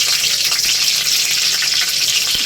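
Dried chillies, bay leaf and black cumin frying in hot oil make a dense, loud, continuous hiss. Occasional small crackles pop through it, and no one speaks.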